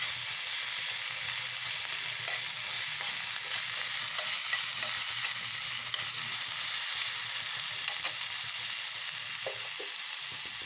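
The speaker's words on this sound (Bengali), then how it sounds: "মাত্র বাজার থেকে আবার উচ্ছে নিয়ে এলো বলে একটু উচ্ছেও ভেজে নিচ্ছি" Bitter gourd fries in a pan with a loud, continuous, dense sizzle that holds steady throughout, with a few faint clicks. No one speaks.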